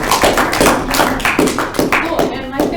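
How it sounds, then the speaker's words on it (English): Audience applause after a robotics team presentation at a conference session, a series of distinct, fairly loud claps with uneven rhythm, close by, with some speech-like sound mixed in. "Let's give Walton a round of applause."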